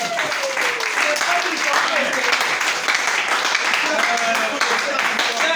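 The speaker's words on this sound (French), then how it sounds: "Acclamez frère Branham." Church congregation applauding steadily throughout, a dense continuous wash of clapping at moderate loudness with voices and shouts mixed in.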